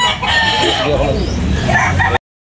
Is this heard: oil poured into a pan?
no